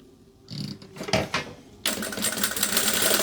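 A sewing machine in a workshop sews a seam, with a few stuttering stitch bursts followed by a steady, fast, close mechanical whirr running to the end.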